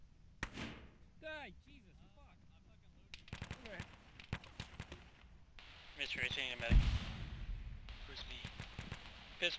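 Gunfire in a military shooter video game crackles in scattered bursts of sharp shots, some distant and some closer, with a louder blast midway and game sounds around it.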